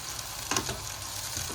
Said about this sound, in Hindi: शिमला मिर्च को हम थोड़ा ही फ्राई करेंगे